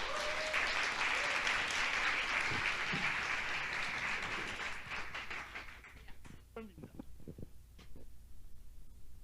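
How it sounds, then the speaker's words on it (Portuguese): A dense crowd applauding loudly and steadily for several seconds, then thinning into scattered claps as a voice begins speaking over it. "um salve de palmas para a Fabiana, por favor."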